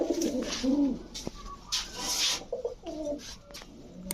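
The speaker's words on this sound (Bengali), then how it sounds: "এখন দেখাবো এক জোড়া ঘুঘু পাখি" A pair of doves cooing close by in soft, low repeated phrases with brief pauses, alongside light rustling and scraping.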